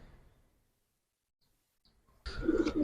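Giribaz and Jelly Pankhi pigeons give a loud, close burst of cooing and rustling near the end, after a long stretch of near silence.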